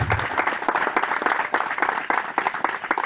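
A church congregation applauding during a blessing service, dense continuous clapping from many hands at moderate distance, steady and lively throughout with no pauses.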